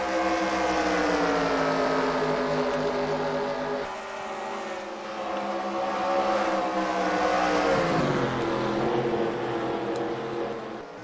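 Race car engines in the eNASCAR video game at Kansas whine steadily at high pitch, shifting tone as cars pass and change speed, with no talk over them.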